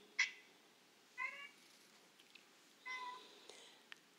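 A cat meows three times at moderate volume, with short, clear calls spaced about a second apart over a quiet background.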